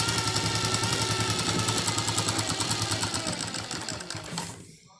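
Sewing machine stitching the side seams of a palazzo pajama, a fast, even mechanical clatter running continuously up close before slowing and stopping at the end.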